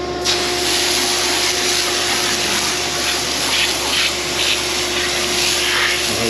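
A hose sprays a Porsche 911 with a steady, loud rush of hissing air and spray that runs unbroken, with a faint tonal whine underneath and no talk.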